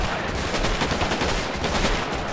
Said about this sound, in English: let's get our Johnson MG up